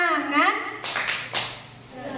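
Group clapping during an Indonesian 'tepuk semangat' spirit-clap ice-breaker at a discussion forum, a few sharp claps bursting out after a voice speaks, close and fairly loud.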